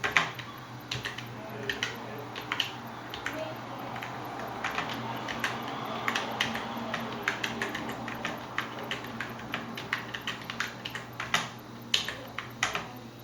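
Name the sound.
typing on a computer keyboard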